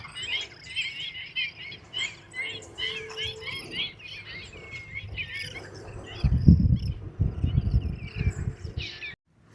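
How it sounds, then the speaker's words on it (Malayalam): Many birds chirp and call at a waterside in Chellanam, Ernakulam, with dense high twittering through most of the clip, insects buzzing along with it, and a louder low rumble of wind or handling noise near the end. "ഒരുപാട് പക്ഷികളാണ് കേട്ടോ ഇവിടെ ഇരിക്കുന്നത്"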